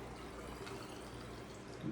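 Water trickles and gurgles into a bottle through marbles and stone, a faint, steady pouring wash with no voices.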